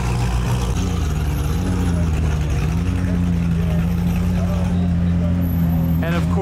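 A newly released McLaren Ultimate Series supercar, priced over $1 million, holds a steady low engine drone throughout at a supercar rally in Texas, with voices in the background.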